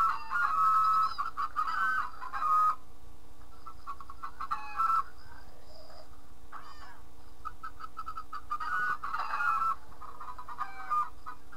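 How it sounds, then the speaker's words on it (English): Minecraft chickens cluck in bursts over a steady electronic hum, with a few squawks and short gaps between the clucking. "Over here's the chicken coop."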